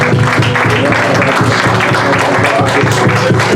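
A church congregation at a prophetic deliverance night applauds and cheers for Jesus, a dense, steady wash of clapping and voices with a musical tone humming beneath, loud and continuous throughout.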